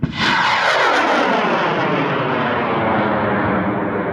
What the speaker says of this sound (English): We are rolling out of the Utah Rocket Club launch.